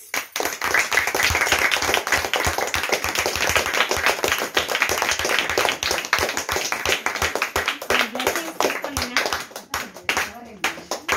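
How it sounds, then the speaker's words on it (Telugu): A crowd claps throughout a network-marketing achievement celebration, with dense, fast, close hand claps running continuously. A voice can be heard under the clapping before it thins out at the end. "క్లాప్స్."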